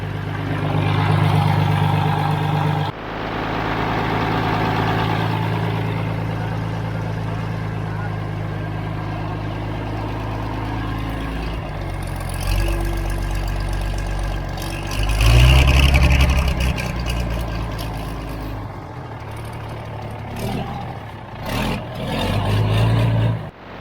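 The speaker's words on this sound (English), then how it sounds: "But we're happy that the engine runs." The diesel engine of an abandoned motor grader, left in the woods for years and leaking hydraulic fluid up front, runs at a rough idle with a surge in revs midway. Someone talks over the engine noise throughout.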